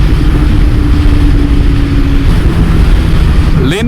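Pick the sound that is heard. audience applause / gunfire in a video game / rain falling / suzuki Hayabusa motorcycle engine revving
suzuki Hayabusa motorcycle engine revving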